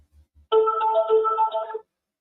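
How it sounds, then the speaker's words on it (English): A single long electronic ringing tone on a telephone call, clear and close, sounding alone after a brief low thump and ending abruptly, followed by silence. "the longest ring I've ever heard in my life"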